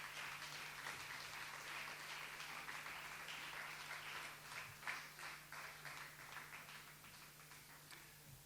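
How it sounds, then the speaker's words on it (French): Faint applause from an audience at a student journalism festival contest, a steady patter of scattered hand claps over a low hum. "Sous vos applaudissements."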